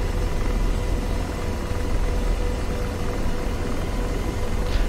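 An AH-64D Apache helicopter hovers in the DCS World flight simulator, producing a steady, dense rotor and engine roar that stays even throughout without talk.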